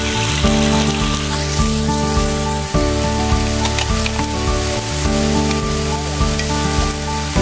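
Shrimp seasoned with fine black pepper and salt sautés in a hot pan, a steady, close crackling sizzle that runs throughout with brief stirring pulses and a faint musical bed underneath.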